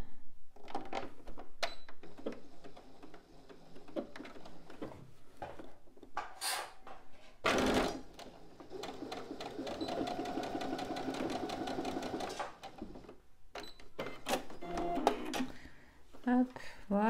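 A domestic sewing machine runs in short stop-start bursts while stitching a small repair seam at the top of a hat, with a longer steady run in the middle, close by, and a person speaking between bursts.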